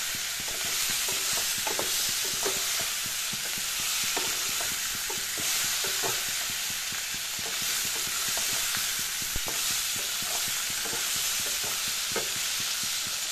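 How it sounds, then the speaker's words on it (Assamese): Small fish stirred in a pan on a low flame: a steady, close sizzle runs throughout, broken by frequent scraping strokes of a spatula against the pan, with no voices. "অলপৰ কৰি এনেকৈ লৰাই দিম।"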